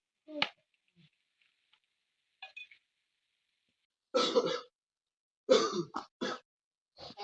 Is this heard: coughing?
yes